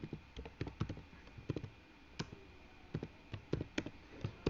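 Typing on a computer keyboard while writing Arduino code, with irregular bursts of crisp, close key clicks and short pauses between them. No one talks.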